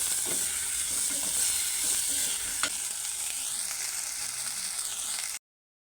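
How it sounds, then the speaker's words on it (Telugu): Cluster beans sizzle and fry steadily in a hot pan with turmeric for a masala fry, a continuous close hiss with occasional scraping and stirring clatter, no voices. "చిక్కుడుగాయ వేసుకుందాం కలుపుకోవాలి"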